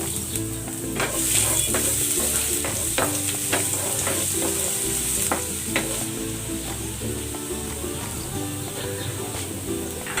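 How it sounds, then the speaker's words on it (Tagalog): Garlic sautéing in hot cooking oil, a loud, continuous sizzle close to the pan, broken by repeated scraping and stirring strokes from a utensil. "Maglagay tayo ng cooking oil. Gisa natin tong bawang."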